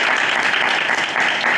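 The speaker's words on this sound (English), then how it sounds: "So let's everyone do a round of applause." After a university robotics seminar talk, the audience gives a brief burst of steady, full applause.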